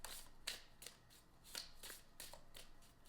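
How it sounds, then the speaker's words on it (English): A brand-new tarot oracle card deck being shuffled by hand, with quiet, papery riffles and soft flicks repeating in a quick, steady rhythm, close and alone. "There's nothing like shuffling a deck for the very first time."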